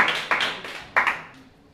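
Brief scattered clapping from an audience at a poetry mushaira, a few sharp claps that quickly thin out and fade.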